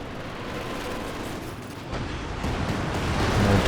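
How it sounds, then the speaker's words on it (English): Werfer rocket artillery barrage in the Company of Heroes 2 strategy game, falling on a captured MG42 position: a dense, continuous roar of launches and blasts that builds louder toward the end, with no talk over it. "here comes the Werfer gearing up for a barrage on the stolen MG42"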